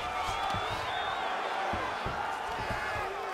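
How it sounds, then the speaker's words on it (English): Arena crowd noise in a UFC fighting video game, a dense roar of cheering and whoops with scattered thuds, continuous and fairly loud. "Oh, huge pop from the crowd as the fighters get back up"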